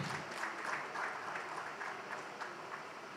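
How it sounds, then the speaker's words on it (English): A conference audience claps steadily for a few seconds, a quiet, even patter of many hands heard from some distance with no voices. "If you want to clap, clap."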